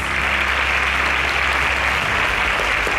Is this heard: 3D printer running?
no